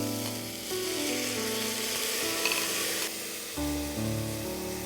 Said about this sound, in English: we'll add the rice.